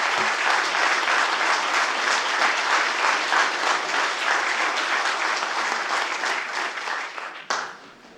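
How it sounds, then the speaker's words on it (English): Sustained audience applause fills a council meeting chamber, steady dense clapping for about seven seconds before fading out. "it's not necessary for you to applaud again if you like it"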